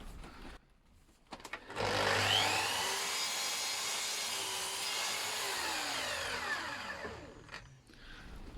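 Handsaw cutting a mitre through wooden door beading: a steady rasping saw sound of about five seconds, with brief handling knocks before and after.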